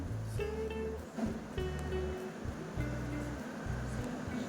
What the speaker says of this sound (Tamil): இப்போ இந்த ரெண்டும் நல்லா இந்த எண்ணெயில் பொரிஞ்சு வரட்டும்